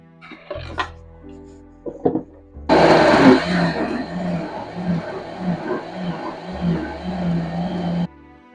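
Blender grinding hard vegetables for a kidney detox drink, starting after a few short knocks and clatters, then a loud, rough motor roar with churning pulses for about five seconds before cutting off.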